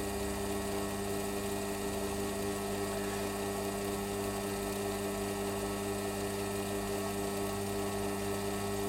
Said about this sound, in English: I'll grab my 8mm reamer now and ream it out 8mm